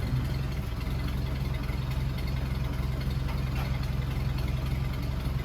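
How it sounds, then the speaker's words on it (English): A 1948 Chrysler Windsor Convertible Coupe with an overhauled engine idles after a cold start, a steady low, even rumble held at a moderate level throughout with no voices. "I'll show you how it starts back here. So again, nice cold start."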